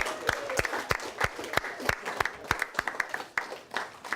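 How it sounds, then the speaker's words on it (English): Workshop participants in a small group applauding themselves, a sparse round of distinct, rhythmic claps from a few people, fairly quiet and close, with faint voices underneath. "give yourselves a round of applause"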